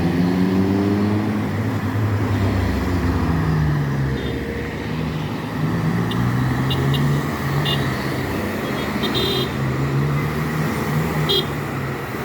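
Truck engine cooling fan running on a Jamaican highway, a steady loud mechanical roar with low droning tones and road noise throughout, no talking.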